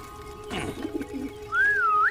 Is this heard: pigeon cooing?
yes